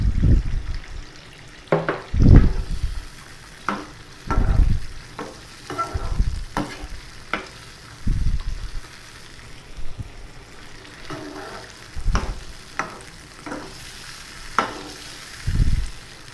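Ginger garlic paste thinned with a little water sizzles in a Peshawari chicken karahi, a steady frying hiss broken by rhythmic stirring scrapes roughly every two seconds, close and fairly loud.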